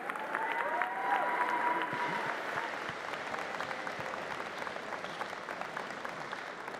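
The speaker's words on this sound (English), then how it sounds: "let's give him another round of applause." Applause from a large audience at a university convocation, steady sustained clapping heard from a moderate distance, with a faint crowd murmur and a few scattered cheers.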